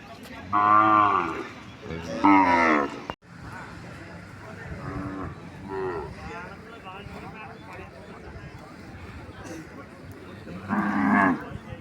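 Cattle at the Palayakottai native cattle market give several loud, close moos near the start and again near the end, while people talk throughout amid wind noise.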